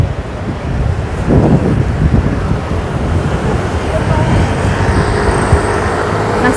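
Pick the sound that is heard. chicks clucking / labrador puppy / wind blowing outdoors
wind blowing outdoors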